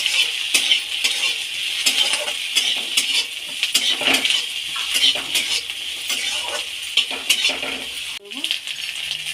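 Onion and slit green chillies fry in a pan with a steady sizzle, broken by sharp clinks and scrapes of a spoon stirring against the metal close by.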